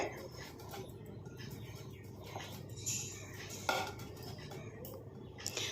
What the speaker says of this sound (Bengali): বাকি যে ডিমগুলো আমি বাদ দিয়েছি সেইগুলোকে আমি এইভাবে গ্রেট করে নেব গ্রেটারের সাহায্যে